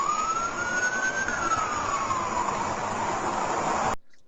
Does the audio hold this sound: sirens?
yes